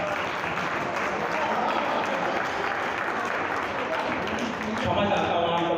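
An audience at a comedy poetry gathering in Haridwar claps steadily and loudly for several seconds, a dense, continuous wash of applause from a crowd that swells slightly toward the end.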